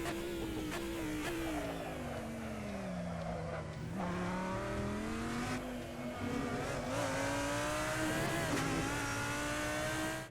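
A GT3 race car at the Fuji circuit in the racing game Assetto Corsa holds a loud, continuous engine note that drops and climbs through gear changes while accelerating out of a corner, with brief tire squeal.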